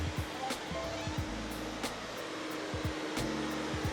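A Predator 3200 industrial vacuum runs steadily on a factory floor with a loud, constant rushing whoosh. Low thumps and rumbles of handling noise sit underneath it, and no one speaks.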